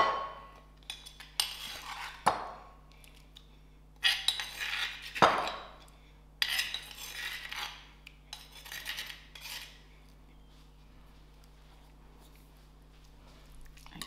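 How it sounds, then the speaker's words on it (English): Marinated prawns tossed and mixed by hand or spoon in a bowl, with irregular clinks, scrapes and wet shuffling in bursts over several seconds, close up and fairly quiet, fading to near stillness toward the end. "Give the prawns a good mix, and then I let this stand for an hour."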